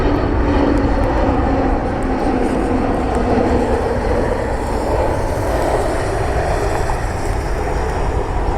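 A Frontier Airlines airliner flies past on a rainy day at Cleveland: a loud, sustained broadband jet engine roar that holds steady throughout, close by, with no voices.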